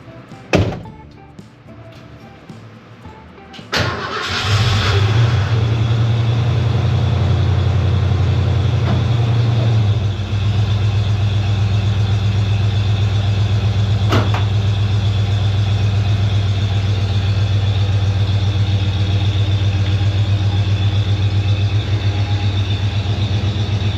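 A Ford OBS pickup truck, low-mile, inside a garage: a door slam, then the engine cranks and fires around four seconds in and settles into a loud, steady, droning idle for the rest of the time.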